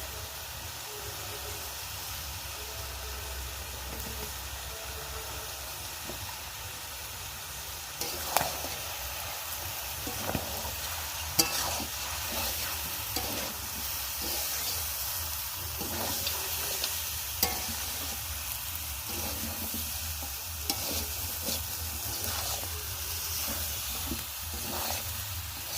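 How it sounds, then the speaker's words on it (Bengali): Duck curry with salt, turmeric and chili powder sautéed and stirred in a pan, a steady sizzling hiss broken by scattered scraping clicks of a spatula, close and even throughout. "তরকারিটা কষানো হচ্ছে, ভালো করে কষিয়ে"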